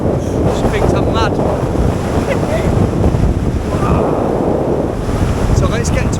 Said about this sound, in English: I can't believe I could hold my own body weight in the wind